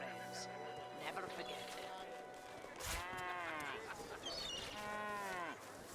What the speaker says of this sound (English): That cow's going crazy over there.